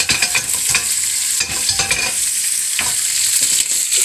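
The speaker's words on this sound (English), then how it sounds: "Put that right in that hot oil." A crisp red-stemmed vegetable with celery-like stalks fries in hot oil, a loud close sizzle broken by repeated stirring scrapes, with no talking.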